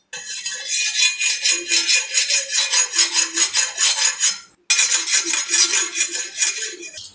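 A boti blade is sharpened by rubbing it with the tip of a metal spatula, giving loud, close, rhythmic metallic scraping strokes that pause briefly and then resume.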